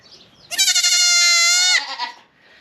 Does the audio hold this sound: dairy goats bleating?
yes